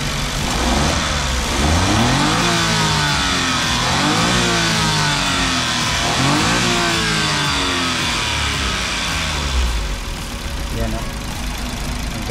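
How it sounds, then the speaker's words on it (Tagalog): An original engine in a DA17V minivan running, with repeated revs rising and falling over a steady idle, close and loud, while someone talks over it. "Ito yung makina niya. So original na makina. So ganda ng andar."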